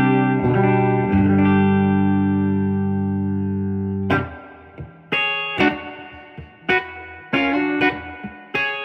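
An electric guitar on its bridge pickup rings out through an amp, a long sustained chord fading out, then a series of sharp strummed chords with light reverb.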